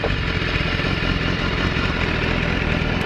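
A BMW S1000RR sport motorcycle with stock exhaust idles steadily nearby, a constant low mechanical rumble with a faint clattery texture.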